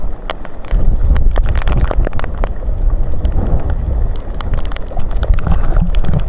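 Strong typhoon wind roars outdoors in Chiayi, Taiwan, a loud, constant rumbling buffet against the microphone with gusty surges and scattered rattling clatter throughout.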